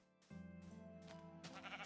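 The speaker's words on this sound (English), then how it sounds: "see a sheep, you gotta shear it" Sheep bleating in the Minecraft video game, a single drawn-out bleat rising and wavering over steady background music, fairly faint and alone without talk.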